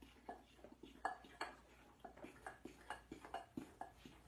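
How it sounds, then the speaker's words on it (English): A whisk knocks against a bowl in a regular rhythm of soft, close clinks while dry and wet sweet potato pancake batter ingredients are mixed, fairly quiet overall. "then we add the dry ingredients to the wet ingredients and then give it a good mix"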